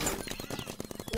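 Rapid paintball gunfire in a Roblox paintball match, a quiet dense burst of sharp repeated pops lasting about a second, with no speech over it.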